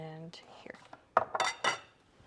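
A metal whisk clinks against a cup in a kitchen, three quick bright taps after a brief hum, fairly quiet and close.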